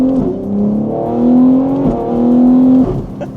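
BMW G80 M3 fitted with an equal-length exhaust, driven in efficient mode with valves closed, giving a steady, close engine drone whose pitch climbs through gears, with a brief shift dip mid-way and a louder pull near the end.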